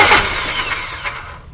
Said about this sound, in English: I've been cranking the engine over with my remote starter, like that.